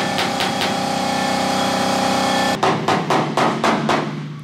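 Hammering out dents in a Nissan S15's car body panels: a steady engine or compressor drone fills the first half, then six or so sharp metallic hammer blows ring out in an uneven rhythm, close and loud.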